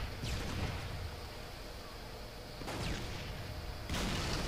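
Distant gunfire in a first-person multiplayer shooter, with shots taken across the map toward a hill objective. A few broadband bursts at about 2.7 and 3.9 seconds rise above steady, noisy game ambience.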